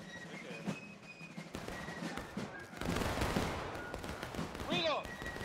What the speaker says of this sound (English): Just getting in a little bit of a gunfight, take the point back.